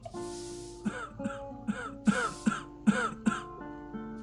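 A character in the game Gothic 2: Archolos coughs in a run of about eight hoarse, throaty hacks, close and clear, with a faint tonal game background.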